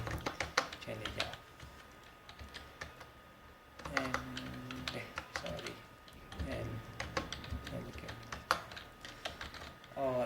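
Quiet computer keyboard typing while entering C++ code, with bursts of rapid clicking keystrokes alternating with pauses, close and faint, as someone talks quietly between the bursts.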